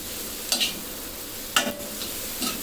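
Chili powder and whole spices frying in a pan for shahi paneer, a steady close sizzle with a few sharp scrapes from stirring, one near the start and one past the middle.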